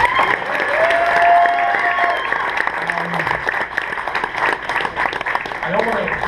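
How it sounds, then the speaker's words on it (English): A comedy club audience at a memorial show at the Hollywood Improv breaks into sustained applause with some cheering, while voices carry over the clapping. "One last round of applause for Ramsey"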